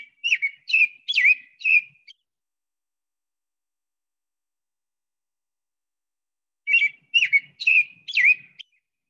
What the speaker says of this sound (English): Pamela, did you hear that bird this morning going cheerily, cheer up